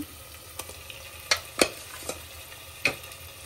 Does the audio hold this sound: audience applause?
no